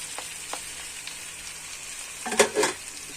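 Puffed rice (borugulu) tipped into a hot frying pan for upma, a soft sizzle giving way to a short burst of rustling, crackling frying near the end.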